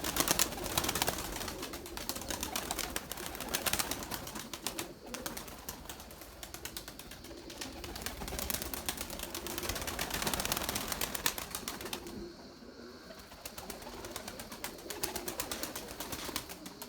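Young purebred Erzurum white pigeons coo in a loft, a continuous murmur of soft nearby calls with occasional rustles and wing flutters, fairly quiet and without talk.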